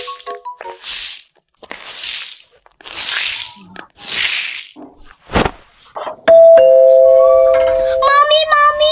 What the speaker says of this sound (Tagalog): Nagdo-doorbell.